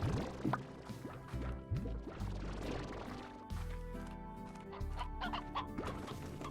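Chickens cluck repeatedly in the video game Slime Rancher over a busy, continuous game soundtrack with bubbling, dripping effects.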